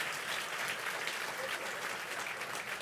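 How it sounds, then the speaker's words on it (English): Sustained applause from an audience at an MLK celebration, a steady dense wash of clapping that holds for a few seconds without pause. "let's give her a round of applause."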